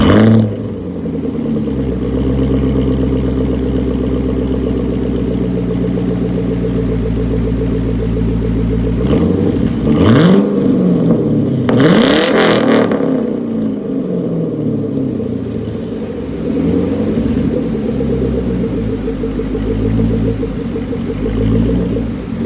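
A Chevrolet Camaro with a modified exhaust starts up and settles into a loud, steady idle rumble. A brief revving burst comes partway through, then the idle continues close by with no talking.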